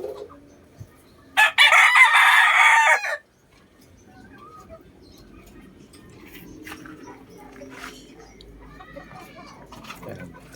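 A sweater cross gamefowl rooster lets out one loud, close crow lasting about two seconds, followed by a quieter backyard with faint rustling and distant low sounds.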